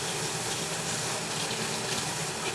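Water runs steadily from a tap into a container in a constant rushing hiss, moderately quiet and close, with no talking.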